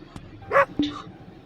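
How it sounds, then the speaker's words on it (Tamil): A dog in a horror video game gives a couple of short, sharp barks and yips close by, separated by brief quiet gaps over a low background. "நாய் வேற குலைக்குது."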